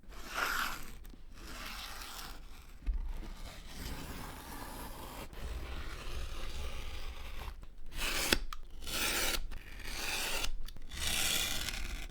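A blade drawn through leather to cut one long strip for a handmade bag, giving repeated rasping, scraping strokes with brief pauses, close and without speech.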